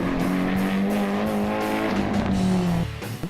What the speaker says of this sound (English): drifted all the way through both corners and across the finish line